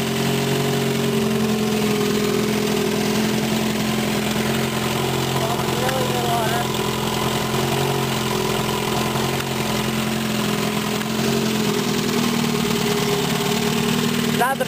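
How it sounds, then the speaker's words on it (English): A 1954 Evinrude Fleetwin 7.5 hp outboard motor runs steadily at idle throughout, a continuous mid-pitched engine drone with a light knocking texture, loud and close. "Not the prettiest outboard, but it sure does run really nice."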